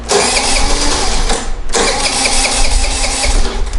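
A Vespa scooter engine sprayed with carburetor cleaner cranks and catches, a loud close buzzing engine that briefly dips and then keeps running steadily, no speech.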